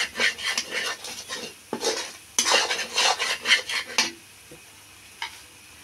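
Spoon scraping and clinking against a pan while egg curry is mixed, busy clattering strokes for about four seconds with a faint sizzle underneath, then a single tap before it goes quiet.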